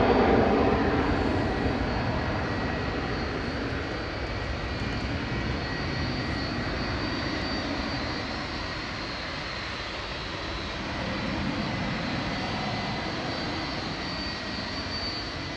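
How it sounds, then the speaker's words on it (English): A 36-year-old Jet2 Boeing 757-200 departs Manchester Airport for Thessaloniki, its engines a steady, loud broadband roar that stays fairly even throughout, with no talk over it. "GLSAI is the next one to go, heading over to Thessaloniki with flight 903 for Jet2. This is a 36-year-old 757-200."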